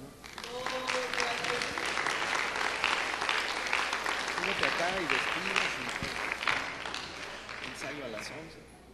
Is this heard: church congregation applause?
yes